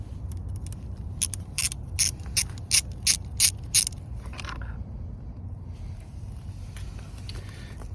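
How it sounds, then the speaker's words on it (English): Socket ratchet clicking in a fast run of sharp bursts, partway through undoing the 8mm bolts on the bottom scoop of a Ducati Multistrada V4S motorcycle, close and loud over steady workshop hum, then fading to lighter scraping. "Just take this this bottom scoop off, and it's again, it's just three bolts, 1, 2, 3, with an 8mm socket."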